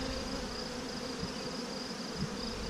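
Honeybees buzz during an open hive inspection, a steady, dense drone that stays close and constant throughout with no letup or talk over it.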